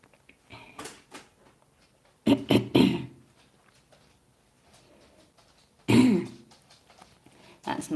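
One person coughs or clears the throat in a few short, sharp bursts with quiet gaps between them, close and fairly loud, in a calm indoor room.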